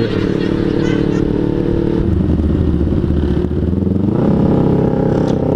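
A motorcycle engine revs loudly and close-up during an Indonesian motovlog ride, holding a steady droning roar that swells higher near the end, with a voice talking over it.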